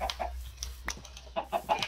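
Chickens in the Minecraft video game cluck in short, separate bursts, some close and some fainter, with a soft low hum underneath.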